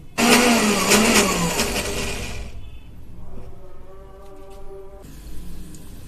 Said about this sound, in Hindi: ये ग्राइंडर ले लें आप।